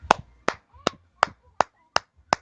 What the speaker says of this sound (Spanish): Un aplauso para nuestro amigo José que fue honesto en decir que ese texto no existe